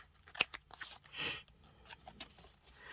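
Scissors snip away paper overhang from the edge of a collage. The cuts are close and crisp, with a sharp snap, one longer slicing stroke and several lighter clips and rustles, and no one talks.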